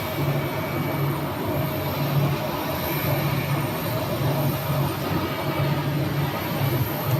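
An Alaska Airlines jet lands at Phoenix airport, a steady loud engine roar and rumble heard from outside, unbroken for several seconds with no talking.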